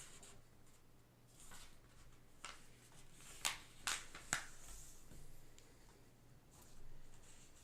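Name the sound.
folding a sheet of paper diagonally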